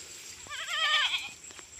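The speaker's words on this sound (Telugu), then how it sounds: "మన మేకలు చూడండి ఈ విధంగా అయితే ఎక్కి మేస్తున్నాయి" A goat gives one clear, wavering bleat at close range while goats climb onto bushes to graze on vines, followed by a few faint knocks in a quiet setting.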